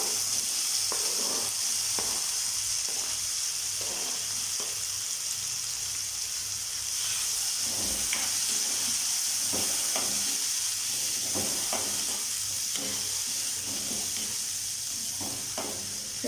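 Chopped tomatoes sauté in a pan for Andhra-style spinach pachadi. A steady close sizzle runs throughout, with a low hum underneath and repeated scraping clicks from stirring.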